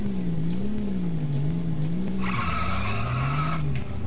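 In a Sega Dreamcast racing game, an engine drones with wavering pitch as a car drifts, then a loud tire screech cuts in for over a second before the engine note drops, continuous and close.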